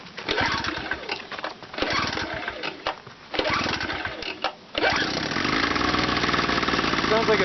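A small gasoline engine, roughly like a boat motor, runs at a steady drone after a few on-off bursts. It sits close and loud, with people talking over the start.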